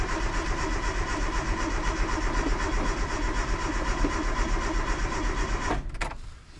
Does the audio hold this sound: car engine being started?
yes